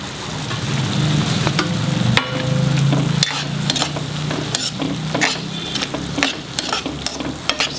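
Finely chopped capsicums stirred in a hot pan over a medium flame, a steady sizzle and fry with sharp scraping clinks of the spoon against the pan at irregular intervals.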